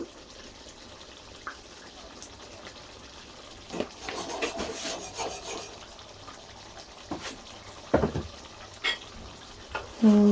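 Corn being stirred in a cooking pan after salt has been added, giving soft scraping and stirring sounds with a few louder spoon strokes over a quiet background, and no talking.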